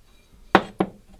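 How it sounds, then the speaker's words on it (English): Two sharp hard knocks on a ceramic Strawberry Shortcake toothbrush holder, close and loud, spaced about a quarter second apart, then a faint tap. "Strawberry Shortcake, and that used to be a toothbrush holder."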